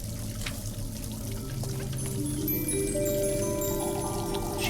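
An endless water stream in the video game Little Goody Two Shoes, a steady pouring trickle that runs continuously at moderate level with faint musical tones above it.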